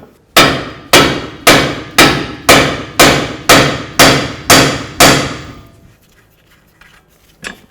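Nine sharp, evenly spaced hammer blows ring out on the front upper control arm of a 2006-12 Ford Fusion, loud metallic strikes in a steady rhythm, followed by quiet and one faint knock at the end.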